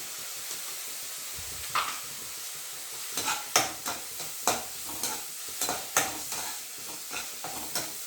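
Onions browned in a pan with garlic ginger paste just added, stirred in a run of soft sizzling scrapes and spatula knocks, close and fairly quiet, with no talking.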